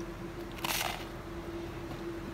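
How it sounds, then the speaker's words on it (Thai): One crisp, close bite into a broccoli grilled cheese sandwich on whole wheat bread makes a short crunch, with a faint steady hum underneath. "เดี๋ยวเราไปฟังเสียงกัดกันเลยค่ะว่ามันจะกรอบขนาดไหน"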